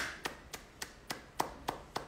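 Seven sharp hand claps at a steady, unhurried beat, fairly close and distinct, with a faint hum beneath and no voices.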